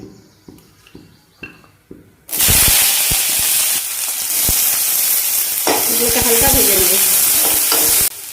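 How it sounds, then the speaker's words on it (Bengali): Ginger and garlic hit hot oil in a wok with a sudden loud sizzle that stays steady and strong, preceded by a few light clicks and taps of a spatula, with intermittent stirring knocks against the pan. "তেল গরম হয়ে গেলে এর মধ্যে দিয়ে দেবো আদা রসুন"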